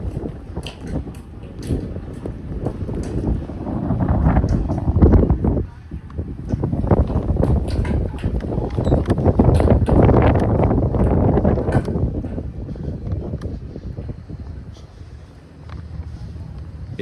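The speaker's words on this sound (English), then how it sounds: "It's just sudden gusts that are coming out of nowhere." Strong wind gusts buffet the microphone outdoors on a city street during an intense Montreal snowstorm, a loud, continuous rumbling roar that surges and swells in long waves, with a voice heard faintly at moments.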